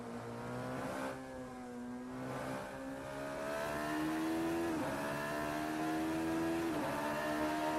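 Race car engine in a Radical series sim race, holding steady revs with repeated rising and falling pitch sweeps as it weaves to warm its tires on an out lap, continuous and fairly loud with no talk.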